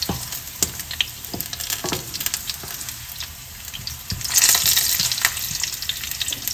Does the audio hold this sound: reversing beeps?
no